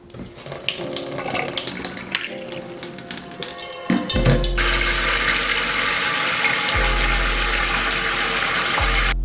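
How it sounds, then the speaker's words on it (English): Water runs into a pot from a tap, first as an uneven splashing stream, then a loud, steady rush that fills the rest of the clip, with a few brief changes in flow. "get a pot and add some water to it"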